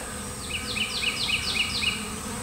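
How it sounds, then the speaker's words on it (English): Honeybees buzz in a dense swarm around a swarm trap, with a steady drone and a series of rising whines from individual bees passing close by, heard on their own without talk. "but that's a lot of bees"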